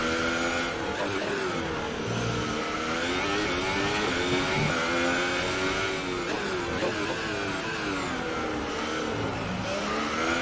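An F1 2018 race car idles and revs in the pit lane of the racing game, its engine a steady, close, whining drone with pitch that dips and climbs repeatedly throughout.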